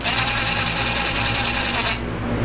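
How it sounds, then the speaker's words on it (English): Cordless drill running down the clutch cover bolts on a Honda 350X three-wheeler, a steady continuous whir held for about two seconds before cutting off, close and loud with no talk. "and then I run it down gently, easy with my drill, cross pattern, like so"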